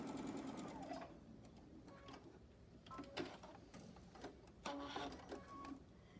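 A domestic sewing machine runs in short stitching bursts with pauses between, the needle's rapid mechanical chatter close and fairly quiet, stopping and starting as fabric for a quilt block is sewn.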